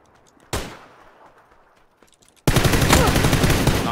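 Loud, sustained automatic machine-gun fire in a squad-based military shooter game, a dense rapid burst starting midway and running to the end, preceded by a single sharp shot and quieter ambient battlefield noise.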